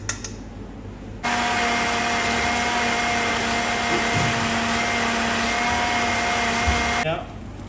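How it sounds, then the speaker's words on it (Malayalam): An electric mixer grinder blending batter starts abruptly, whirs at a steady high pitch for about six seconds, then cuts off, with quiet room noise before and after. "മിക്സിയിലിട്ടൊന്ന് അടിക്കണം"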